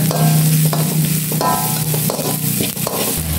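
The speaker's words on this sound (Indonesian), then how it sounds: "Tumis sebentar." Chilies stir-fried in a pan with kaffir lime leaves, loud close sizzling broken by scraping stirring strokes.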